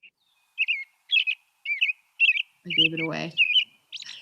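An American robin gives a string of short, bright chirping calls at an even pace, fairly close, with a person speaking briefly near the end.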